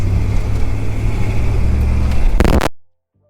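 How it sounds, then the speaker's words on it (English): A pickup truck engine rumbles steadily and loud up close as the throttle is pressed, building slightly before a sharp burst and an abrupt cut to silence near the end. "Hit the gas."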